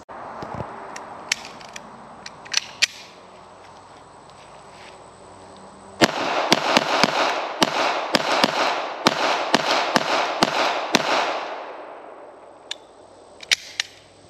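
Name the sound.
HK P7-M13 pistol being fired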